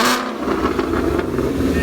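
A 2013 Ford Mustang 5.0 with full exhaust, Cook's headers and an off-road X-pipe revs loudly up close, a steady, heavy engine roar held throughout.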